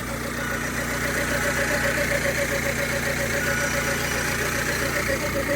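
A Peugeot 106 GTI idles steadily on stale old fuel, a close, even engine drone with a faint periodic tick that holds for the whole stretch.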